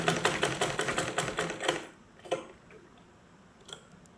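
Sewing machine stitching along folded fabric panels, a fast close rhythmic run of needle strokes for about two seconds, then a few separate clicks and taps as the machine stops.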